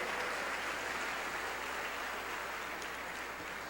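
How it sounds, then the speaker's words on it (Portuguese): A church congregation applauding, a dense and even wash of clapping hands at moderate, steady level, with no voices standing out. "Vamos aplaudir o Senhor mais uma vez"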